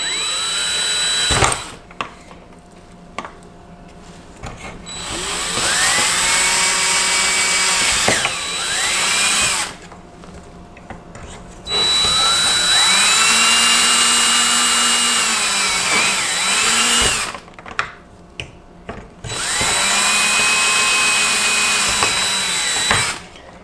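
A power drill bores holes during a fix for a Sherco motorcycle's cooling fan, whining loudly in three long bursts with brief pauses and pitch shifts as the motor loads and eases, close to the microphone.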